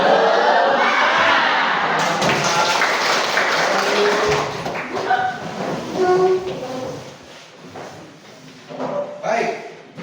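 A group claps a spirit clap in a quick rhythmic pattern, loud and close, with voices shouting along between the bursts of clapping.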